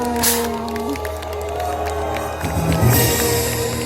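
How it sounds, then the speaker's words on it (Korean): A crowd of fans at an outdoor road-naming ceremony in Korea cheers and claps steadily, with a voice speaking over the noise. "박수 보내주시기 바랍니다"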